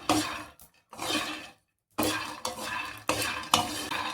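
Peanuts roast in a dry pan on the stove, stirred in bursts of scraping and rattling, with short quiet gaps between strokes; close and fairly soft.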